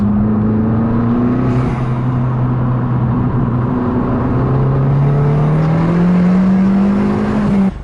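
A 250 BHP Abarth 500 with a Power Motive valved exhaust accelerates hard, its engine note rising in pitch through the gears with a short shift dip, loud and close from inside the cabin, no talking.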